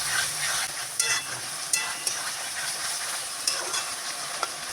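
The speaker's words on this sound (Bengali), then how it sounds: "এবার আমরা সুন্দর করে মশলাটাকে কষিয়ে নেব।" Spice masala stir-fried in a pan for chilli chicken, giving a dense, steady hissing sizzle with occasional light spatula taps over the top, close and continuous.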